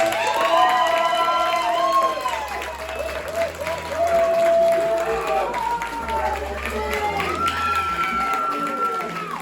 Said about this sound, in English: you stand to your feet and you applaud that man for this effort